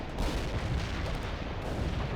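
Dense, continuous rumbling artillery fire in World in Conflict, a steady low boom-filled barrage with no talk over it.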